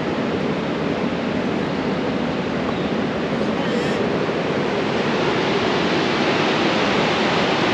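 Loud, continuous rush of a stream in Sequoia National Park, a dense steady roar with no breaks, close by and filling the whole scene.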